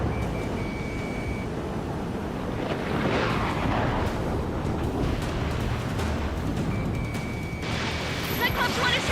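A missile strikes a fighter jet in the Ace Combat 7 air-combat game: a broad roaring burst rises over continuous engine rumble, with a thin, steady warning tone sounding near the start and again near the end.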